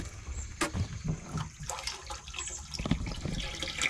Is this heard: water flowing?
yes